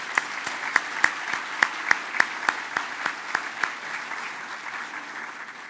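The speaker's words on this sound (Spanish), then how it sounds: "Yo quiero pedir un aplauso para los empresarios que apuestan por el Perú." An audience at an anniversary ceremony of the Lima Chamber of Commerce joins in rhythmic, synchronized clapping, about a dozen evenly spaced sharp claps over a bed of steady applause that continues once the unison beat fades.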